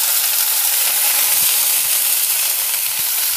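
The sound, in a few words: karamcha fruit added to hot oil with mustard seeds, frying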